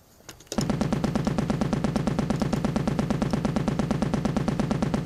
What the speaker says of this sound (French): je vais vous faire une démonstration de mitrailleuse